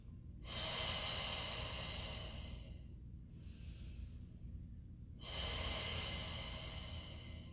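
During a Pilates mat exercise, two long, deep breaths are drawn and pushed out close to the microphone, with a quieter pause between them and no talking.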